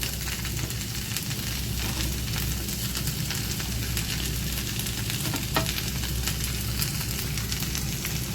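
Carrot chutney ingredients with ginger fry and get stirred in a pan, giving a steady, close, dense sizzle that holds at an even level throughout, with no talking.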